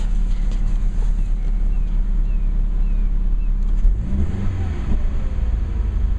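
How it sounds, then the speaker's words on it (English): A 2013 Scion FR-S four-cylinder engine idles steadily at close range, then gets a short, small rev near the end, rising briefly over a low rumble with some wind noise. "the engine has warmed up, so we should be able to give it a small rev"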